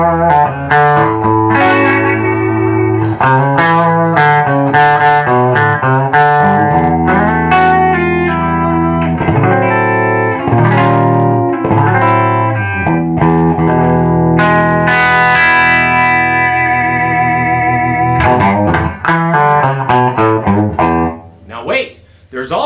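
Electric guitar played through a Fender Bassman or Bandmaster amp with a 1964 reverb unit, loud sustained chords and riffs washed in spring reverb, continuous for over twenty seconds before trailing off.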